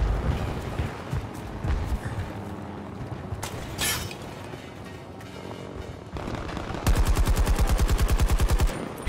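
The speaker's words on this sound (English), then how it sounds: "Pew pew! All the bullets." Bursts of automatic gunfire from the video game Battlefield 2042, scattered shots early on then a sustained rapid machine-gun volley near the end, moderately loud.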